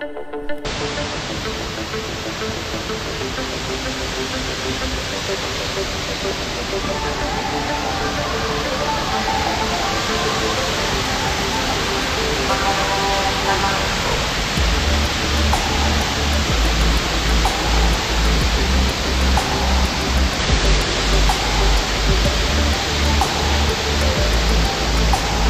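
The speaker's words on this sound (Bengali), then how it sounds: "দেখো এখান থেকে জল একটা আসছে, পাথর রয়েছে" Steady broadband rush of water pouring over rocks at Bamni waterfall in Purulia, continuous and fairly loud throughout, with a deeper low rumble building in the second half.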